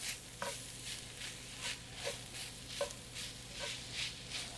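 Roasted peppers being stirred in a pan for a Mexican dish, with repeated soft scraping strokes at a steady pace over a faint sizzle, fairly quiet and with no voices.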